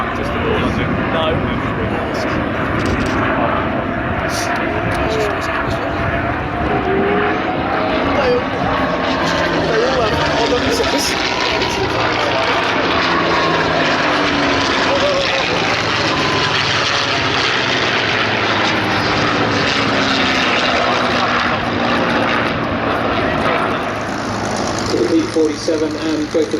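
Propeller aircraft engines, including a P-47, drone steadily at an airshow, a loud, continuous roar with shifting tone as planes pass and land, while a commentator talks over it.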